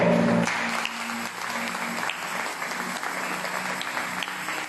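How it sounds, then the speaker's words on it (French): Church congregation applauding during a Sunday service, a burst of clapping that swells at the start and then carries on as steady hand claps, with some held tones ringing underneath. "Acclame Jésus très fort."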